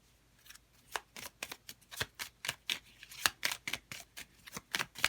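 Oracle cards are riffled and shuffled in a quick run of soft, crisp slaps and flutters, close by and fairly quiet, with no voices.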